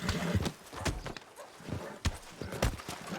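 A horse in a video game, its hooves clip-clopping in an uneven run of sharp hits that carries on steadily through the clip, close and fairly clear.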